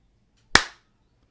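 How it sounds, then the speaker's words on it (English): A single sharp hand clap used as an audio demo, one loud close crack with a short decaying tail, surrounded by near silence. "I will put a simple clap here."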